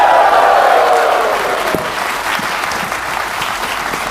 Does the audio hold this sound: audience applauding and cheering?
yes